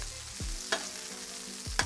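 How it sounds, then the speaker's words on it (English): Food sizzling in hot oil on the grill of a new smoker trailer rig, a steady close frying hiss broken by two sharp scraping stirs, with no talking. "A little bit of the good oil. Yep, sizzling away, that looks good to go to me."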